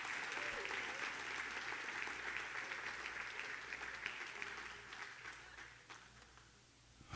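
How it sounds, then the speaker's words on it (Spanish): Church congregation applauding steadily for several seconds, a dense continuous wash of clapping that thins out near the end, heard at moderate distance. "Alguien debe aplaudir a Dios."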